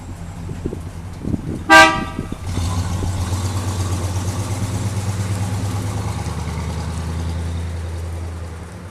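A Pontiac car at a petrol station in Denmark gives a sharp horn toot, then its engine catches and settles into a loud, steady low rumble close by, continuing to the end.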